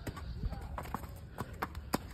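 Horse hooves clip-clopping on concrete, a well-shaped, good-sized, not-too-tall horse unused to such surfaces; irregular hard knocks at moderate distance over a steady noisy background, with speech-like murmur present.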